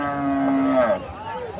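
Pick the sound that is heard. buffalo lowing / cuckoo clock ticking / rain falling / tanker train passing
buffalo lowing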